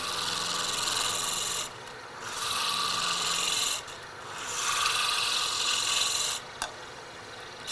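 Wood spins on a lathe as a turning tool cuts it, giving a continuous, close, loud scraping hiss in long passes broken by short pauses between cuts.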